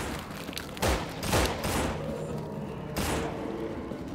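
Gunfire in the zombie survival game No More Room In Hell: a few scattered shots and short bursts at moderate distance over a dense background of game noise.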